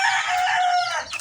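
Rooster crowing among backyard pet chickens kept as layers, one loud close crow held for about a second, with no talk.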